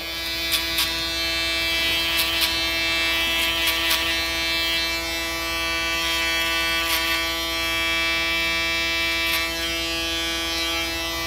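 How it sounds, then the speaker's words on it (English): An electric shaver buzzes steadily and close during a barber's skin taper haircut, a constant high whine with faint scratchy strokes as it passes over the skin, with no voices. "now a little bit of the shaver"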